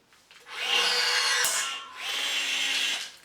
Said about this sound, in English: you simply insert the rivet, put it in all the way, squeeze the trigger